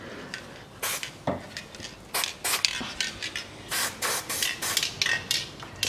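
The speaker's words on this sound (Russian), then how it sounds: "Смазываю резьбу." Bursts of spray, a series of short hissing blasts of lubricant onto a bolt thread during engine assembly of a 2003 Toyota Caldina, with faint metallic clinks between them; close and alone.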